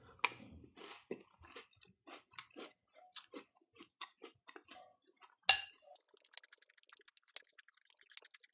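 A mouthful of Oreo O's cereal with milk is chewed close up, with soft wet crunches and scattered clicks spread through a quiet background and one louder crunch partway through.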